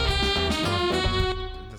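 A synthesized saxophone plays a short, smooth melodic phrase over a backing track, sounding bright and slightly artificial.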